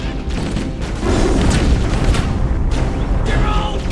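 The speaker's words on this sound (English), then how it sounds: "Fire in the hole!" A grenade detonates in the Halo PC game, heard as heavy booms and rumbling blasts over continuous battle noise, loud and sustained, with no clear talk.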